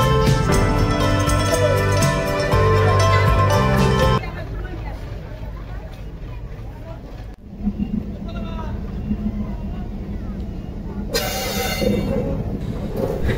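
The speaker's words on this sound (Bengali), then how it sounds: "এখানে ট্রেন পৌঁছানোর পর একদমই দেরি করে না" Passenger train on the Khulna to Mongla line, a heavy rumble and clatter of the carriages with background voices, shifting in loudness and briefly dipping before the steady rolling noise resumes.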